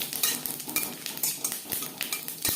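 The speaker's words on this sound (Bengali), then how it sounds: "15-20 সেকেন্ড লঙ্কার সাথে পাঁচফোড়ন ভেজে নেওয়ার পর" Panch phoron spices and a dried chilli fry in a little oil, a quiet close sizzle broken by repeated scraping and clinking of a spatula stirring in the pan.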